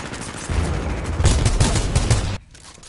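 Heavy-hitting gun firing in Titanfall 2 pilot-versus-pilot multiplayer: a dense burst of loud, rapid shots for about two seconds, then cutting off abruptly into quieter game ambience.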